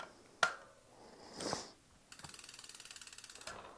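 Close, faint mechanical clicking as an Allen key snugs the caliper bolts on a 2023 Intense Primer 275 mountain bike's brake, a sharp tick and a rustle followed by a fast, even run of ratchet-like clicks.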